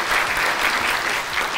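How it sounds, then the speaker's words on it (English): An audience at a water and sanitation utilities event gives a full round of applause, a steady, loud wash of clapping throughout. "I think we can give them a big round of applause."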